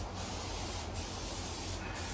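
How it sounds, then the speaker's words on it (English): Cooking oil from a spray can hisses in a steady, continuous burst onto chicken wings headed for an air fryer, close and even throughout. "But first I'm going to put a little spray oil"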